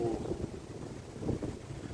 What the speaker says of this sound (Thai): ลมแรงมากๆนะครับ ลมแรงมาก ๆทางโน้นนะครับ